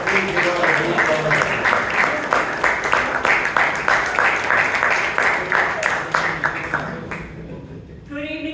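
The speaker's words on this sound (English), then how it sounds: "please give her a big round of" A crowd at a Toastmasters meeting in Bangalore applauds for several seconds in steady, fairly loud clapping that fades out near the end, followed by a brief voice.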